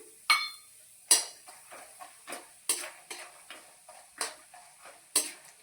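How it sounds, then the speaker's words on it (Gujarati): Almonds being lightly roasted and stirred in a pan as part of gundar pak, with a steady run of sharp scrapes and clinks about every half second and faint sizzling in between, close up and with no voices. "હવે આપણે બદામને પણ આવી રીતે સેજ સતાડી લઈશું"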